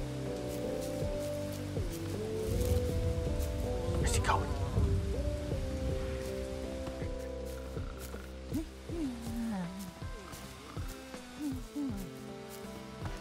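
Rain pattering steadily in the video game Bugsnax, mixed with tonal game music and hoot-like calls, while someone talks briefly over it.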